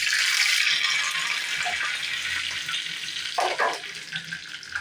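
Steady, bright sizzling of curry leaves frying in hot oil, with a few soft stirring clatters near the end, no voices.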